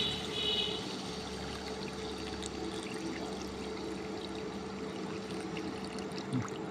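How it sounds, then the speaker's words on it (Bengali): Broth is poured into a sautéed curry of cumin, coriander, turmeric, chili and salt, making a steady, soft watery rush that runs evenly throughout. "কষানো শেষ, এখন আমি ঝোল দিয়ে দিব।"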